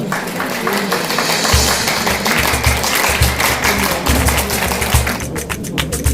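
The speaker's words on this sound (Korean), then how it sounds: "여러분 큰 박수 주십시오" Audience at a Korean forum ceremony applauds steadily after a certificate presentation, a dense wash of clapping with a low rhythmic thumping underneath, fairly loud and continuous throughout.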